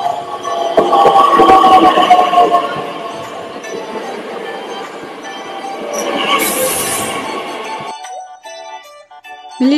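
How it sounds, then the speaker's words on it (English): A train rolls past with a loud, rumbling, clattering roar and some squealing of its wheels, then fades and cuts off near the end into other sounds. "Train."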